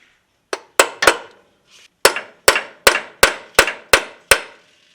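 A hammer strikes a square end punch to stake a transfer case seal on a 3rd generation Toyota 4Runner, giving about nine sharp metallic clangs in a steady rhythm, close and loud with no talking.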